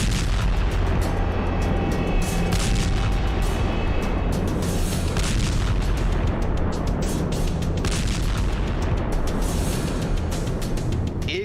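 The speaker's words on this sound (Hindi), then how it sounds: "ड्रोन से हमला किया गया।" A drone attack on Sevastopol, Crimea, brings loud, continuous booms and blasts that pile up over a constant roar, heavy, dense and unbroken for the whole stretch.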